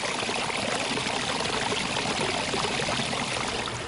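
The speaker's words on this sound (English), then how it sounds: "Enjoy the soothing sounds of rushing water." Rushing water of Taughannock Creek near Taughannock Falls in Trumansburg, running low in a dry August: a steady, close, even wash of flowing water with no voices.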